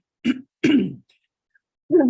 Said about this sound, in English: Coughing in everybody's ear.